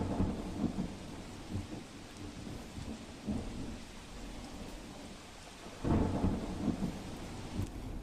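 Heavy monsoon rain pours steadily in Surat district while deep thunder rolls through, swelling in loud rumbles near the start, around three seconds and again near six seconds, with no voices.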